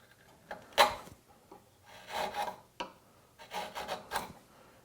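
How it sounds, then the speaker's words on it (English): A wood chisel skewed with the grain pares a chamfer along a board edge for a display shelf, giving several short, dry scraping strokes in separate bursts, close and fairly quiet, with no talking. "To make it, I just use a chisel and I skew it with the grain, working off towards the edge."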